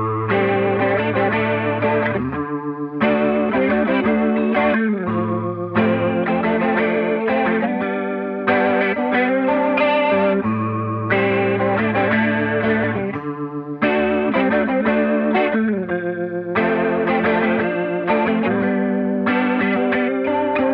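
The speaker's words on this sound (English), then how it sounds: "setting the chorus to a faster rate swirls in an almost Leslie-like fashion" A clean electric guitar plays chords through a Way Huge Blue Hippo chorus pedal at a fast rate, giving a swirling, Leslie-like shimmer over repeated strummed phrases with brief gaps between them.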